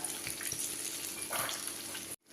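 Steady crackling sizzle of battered banana fritters frying in hot oil, fairly loud and continuous, with a brief gap near the end.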